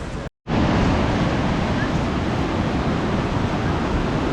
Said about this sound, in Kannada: ತುಂಬ ನೀರು ಬರ್ತಾ ಉಂಟು, ಫುಲ್ ಫೋರ್ಸಲ್ಲಿ ಬರ್ತಾ ಇದೆ.